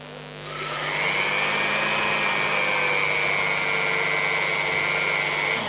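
A power drill with a blunt bit whirs up sharply and runs at a steady, loud, high-pitched whine without pause, in a woodturning workshop.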